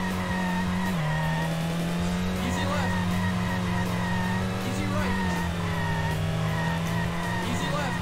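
Rally car from the Sega Rally Championship racing game holds a steady droning engine note, with tire skidding and squealing layered over it throughout, loud and close.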